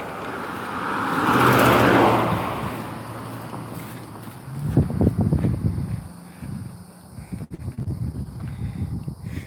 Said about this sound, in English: Had two cars passing each other on a curve